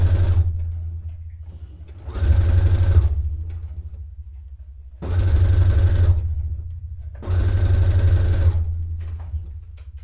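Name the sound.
industrial sewing machine running fast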